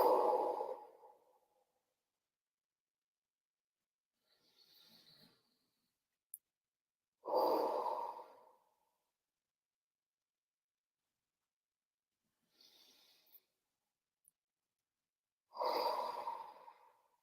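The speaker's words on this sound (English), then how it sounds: "3 deep breaths." Three slow, deep breaths during guided meditation, each a long airy exhale separated by quiet pauses, with faint soft inhales in between, close and alone.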